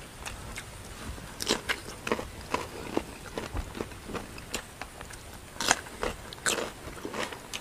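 Raw cucumber being bitten and chewed close up, a series of crisp, wet crunches in an irregular rhythm, quiet between bites.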